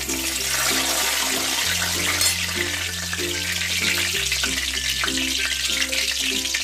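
A bay leaf drops into hot oil for a chicken curry, and a dense, even sizzle runs throughout over soft, steady background music.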